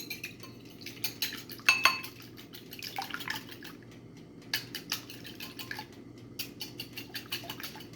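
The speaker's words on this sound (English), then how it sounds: "And let's give this a quick whisk." Eggs whisked in a bowl for eggplant parmesan, giving rapid, irregular clinks and taps of a whisk against the bowl, close and moderately loud, with no talking.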